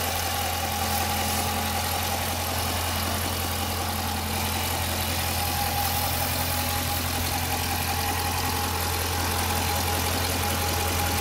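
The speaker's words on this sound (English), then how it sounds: "let's hear the mufflers again. Hear the exhaust." A 2015 Dodge Challenger R/T Scat Pack with the 6.4-liter engine idles through its exhaust and mufflers: a steady, continuous low rumble, close by, with no talking.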